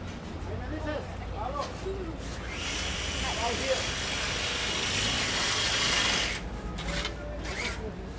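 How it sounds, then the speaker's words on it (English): A Sawzall reciprocating saw cuts through aluminum pipe outdoors with a harsh, sustained rasping buzz lasting a few seconds, with someone talking before and after. "Get the Sawzall out and start cutting aluminum pipe on your knee."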